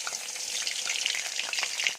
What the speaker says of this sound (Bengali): এর তেলের মধ্যে আলু দিয়ে দেবো